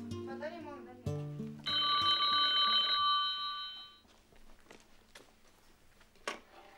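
A landline telephone rings in a home scene from an Egyptian TV drama series: one loud, bright burst of ringing after some earlier clatter, followed by light footsteps and small knocks in a quiet room.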